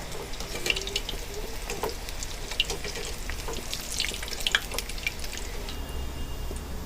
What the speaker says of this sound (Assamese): মই পকৰি কিটা ধুনিয়াকে ভাজি লম